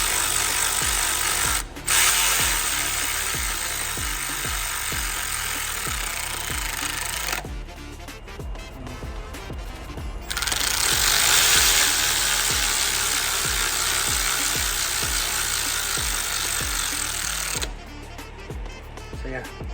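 Loud whirring bursts from a power tool spinning bolts down on a Ford Fiesta engine, several runs of a few seconds each separated by short pauses with clicks of the tool.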